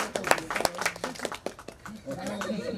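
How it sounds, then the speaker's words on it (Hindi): Clapping at a child's birthday celebration, several quick hand claps scattered through lively background chatter, with talk running over and after them. "ताली हो जाए।"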